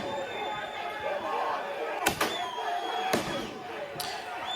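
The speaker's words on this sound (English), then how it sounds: "Irish individuals launching fireworks at police." Fireworks launched at police during a riot near Citywest in Dublin crack sharply about three times amid a rough, noisy crowd, with voices of people talking and shouting underneath.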